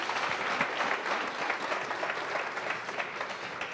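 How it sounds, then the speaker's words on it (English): Sustained applause from an audience at a township business workshop in Katlehong, steady dense clapping that fills the whole stretch without pause. "Can we give them a round of applause, please?"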